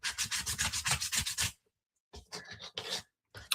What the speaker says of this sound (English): this is like really loud. The sanding.